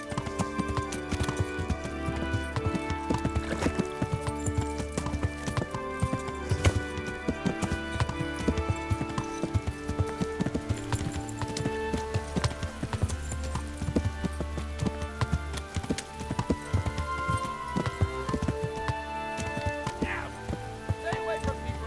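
Steady rhythmic hoofbeats of a galloping horse in the video game Kingdom Come: Deliverance run throughout beneath layered background music, with no pauses.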